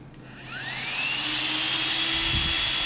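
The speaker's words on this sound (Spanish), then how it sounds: "Y vamos a activar la bomba. Disculpen el ruido," A Flextail electric air pump switches on and whirs steadily, its motor whine rising over the first second and then holding as a loud, close, continuous hum.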